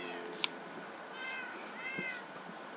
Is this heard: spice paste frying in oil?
no